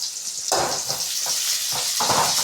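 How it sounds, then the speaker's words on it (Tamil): Onions sautéing in a pan for a dried-fish curry: a close, bright sizzle with several stirring bursts about every half second, loud and alone without talk. "இப்போ இந்த வெங்காயத்தை நல்லா வதக்கிக்கோங்க"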